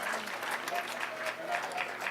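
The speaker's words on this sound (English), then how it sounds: "they should be given a great round of applause" Dinner audience applauding the volunteer cooks at a keynote dinner, a dense steady clatter of many hands clapping for a couple of seconds with faint voices mixed in.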